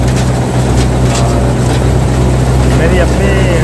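The engine of a Sonalika paddy harvester, a second-hand machine bought in 2019, runs with a loud, steady, low droning roar that never lets up, close by in an open farm setting.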